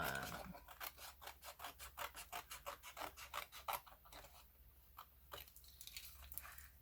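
Scissors snip a piece off craft material for a colouring case in a fast, even run of close cuts, then a few slower, sparser snips with quiet gaps.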